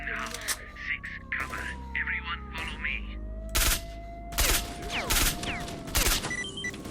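Gunfire in S.T.A.L.K.E.R.: Shadow of Chernobyl comes as several sharp, loud shots spaced a second or so apart, with someone talking between them over a low in-game hum.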